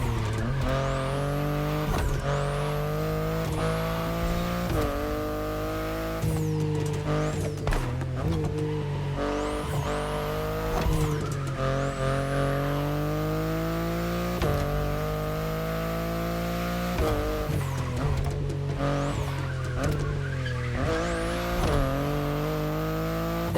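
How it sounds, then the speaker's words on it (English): A BMW i8 hybrid sports car in The Crew Motorfest drives hard. Its engine note rises in repeated sweeps, then snaps back at each gearshift, over a steady low rumble, loud and close throughout. "the sports car you're driving"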